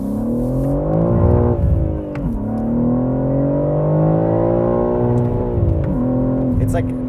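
A 2025 BMW M3 with a manual gearbox revs its engine up to the rev limiter, a loud, continuous, rising and falling engine note with brief dips as revs drop, while people talk over it inside the car.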